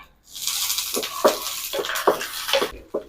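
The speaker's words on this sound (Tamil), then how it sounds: "நம்ம வேர்க்கடலையும் பொட்டுக்கடலையும் வறுத்துக்கலாம்" Peanuts and roasted gram rattle and hiss while being dry-roasted in a pan, a steady sizzling wash broken by several scraping stirs at an irregular rhythm, close and fairly loud.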